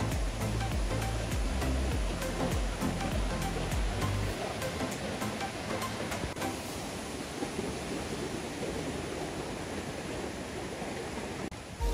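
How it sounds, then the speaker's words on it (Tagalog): Strong current from Baluarte Falls in Ilocos Sur, a loud continuous rushing roar of falling and churning water, close and dense, with heavier low rumble in the opening seconds and no talk. "Taas ng agos. Galing yan sa falls."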